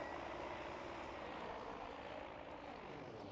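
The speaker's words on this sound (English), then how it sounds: "There's two planes coming up." Steady droning of propeller aircraft engines as two planes approach in Battlefield 5, a continuous broad roar that holds level throughout with no voices.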